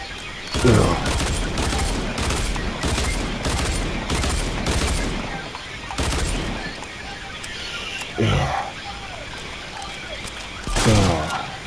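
Gunfire in Fortnite against a demon skeleton, with several loud shots in a ragged volley early on and then scattered single bangs spaced a few seconds apart over a busy background, with a voice speaking in between.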